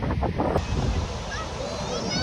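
Rough sea waves wash against the shore near Dwarka in light rain, a continuous low roar heavily buffeted by wind on the microphone.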